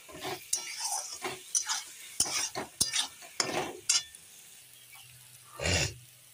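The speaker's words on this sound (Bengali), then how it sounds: "আবার একটু ভালো করে কষিয়ে নিই।" A spoon stirs spices frying in a pan, giving quiet, irregular scraping strokes against the metal over a soft sizzle, with a louder scrape near the end.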